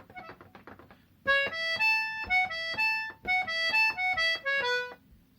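Accordion playing the third and fourth bars of the second part of a tune in a workshop, a short soft phrase then bright sustained chords and notes pulsing in a steady rhythm, close and clear, with no talking.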